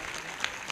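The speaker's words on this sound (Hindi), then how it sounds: "एक जोरदार ताली बजाकर प्रभु को धन्यवाद करें।" A church congregation bursts into loud clapping during a Sunday prayer meeting, a brief dense wash of many hands with no talking.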